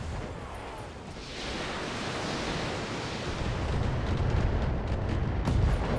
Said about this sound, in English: LRM ammo explosion.